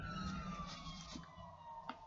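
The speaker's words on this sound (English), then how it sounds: "Who knows what that siren was for?" An emergency vehicle siren wails outdoors, faint and distant, its tone sweeping slowly downward with a brief sharper burst near the end.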